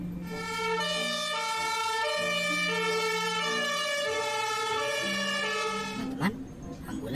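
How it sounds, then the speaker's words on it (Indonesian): A red ambulance siren wails in a steady rising and falling tone for several seconds, loud and close, then cuts off as handling noises follow. "Di sini ada ambulans warna merah,"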